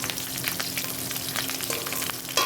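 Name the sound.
frying garlic clove in oil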